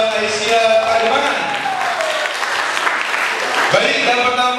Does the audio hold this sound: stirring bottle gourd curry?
no